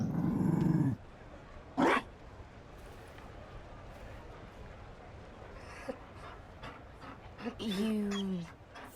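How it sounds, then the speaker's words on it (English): A Mabari dog in Dragon Age: Inquisition gives short growls and whimpers, brief close bursts separated by quiet, with a voice heard near the start and end. "You found a dog."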